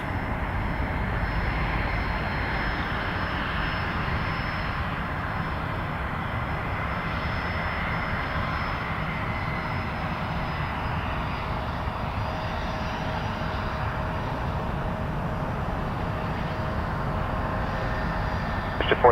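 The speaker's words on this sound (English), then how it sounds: "Get a little biz jet." Business jet taking off at Toronto Pearson Airport, a steady, continuous engine roar that holds at constant loudness throughout, with no pauses or distinct events.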